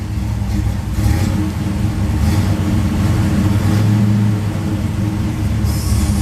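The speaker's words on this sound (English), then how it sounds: "then I put it through the gears a little bit" An old Chevrolet Camaro engine barely idling while its gearshift is worked through the gears, a steady loud low rumble with faint clunks and slight shifts in tone as each gear is selected.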